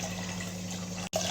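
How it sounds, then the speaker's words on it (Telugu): Water is poured into a pressure cooker holding washed rice, a steady rushing stream over a low mains hum, close by, with a brief cut near the end before the flow resumes. "ఇప్పుడు దీంట్లోకి 3 గ్లాసెస్ ఆఫ్ వాటర్ పోయి,"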